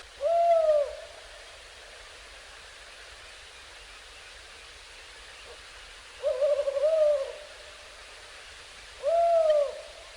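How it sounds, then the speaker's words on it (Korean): A nocturnal owl hoots three times at the grounds of Songgwangsa temple in a bitterly cold Korean winter, each low, mellow call spaced several seconds apart against a faint, quiet night hiss. "야행성인 올빼미는"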